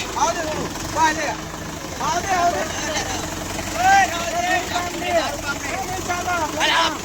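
A 575 tractor's heavy engine labors steadily as it climbs uphill beneath a crowd of voices talking and shouting nearby.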